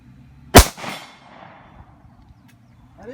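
A single sharp gunshot from a Springfield Armory XDS .45 pistol at an outdoor range, loud and close, with a short echoing tail fading into quiet.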